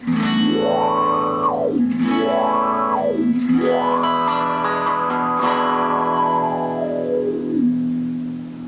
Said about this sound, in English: If I change the filter to be low pass, you hear the difference